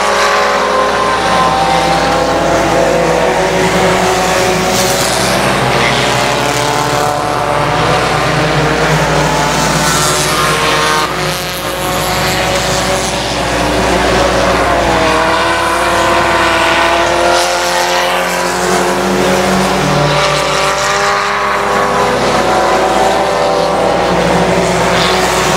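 Race cars roar around the I-37 Speedway track, engines rising and falling in pitch as they pass nearby, a loud and continuous drone that swells and fades without any talk.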